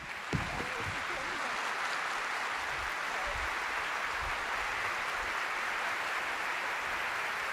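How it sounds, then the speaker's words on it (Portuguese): Studio audience applauds guests in a steady, dense wash of clapping that holds evenly for several seconds, a broad hiss-like roar without breaks. "Vamos, então, receber com aplausos os nossos convidados de hoje"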